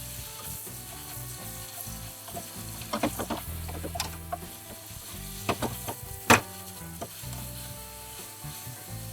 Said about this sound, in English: then I'm going to fry it in my garlic butter